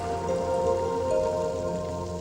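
Steady rain falls outdoors where children are playing, a continuous even hiss of drops spread across the clip with a low hum beneath it and no talking.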